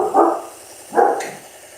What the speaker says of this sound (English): barking at someone at the door